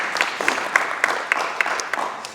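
Sparse, slow clapping from a small Korean church congregation during Sunday service announcements, individual claps spaced roughly evenly and fairly close.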